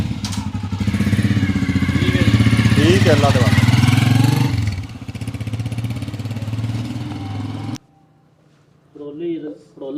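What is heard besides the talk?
Honda CG 125 motorcycle engine riding away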